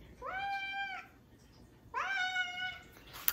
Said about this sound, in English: a very hungry kitty